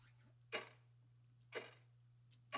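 A clock ticking as a game sound effect, with three sharp, fairly loud ticks spaced about a second apart and a faint fourth tick at the end, over a low steady hum.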